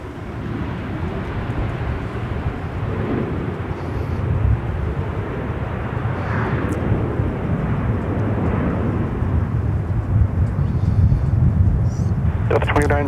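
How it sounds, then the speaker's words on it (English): A Delta Airbus A321 arriving at Minneapolis–St. Paul Airport gives a steady, broad jet rumble that swells slightly toward the end, with faint background voices under the noise. "Another flight arriving from Atlanta. Flight 2901, A321, November 379, Delta"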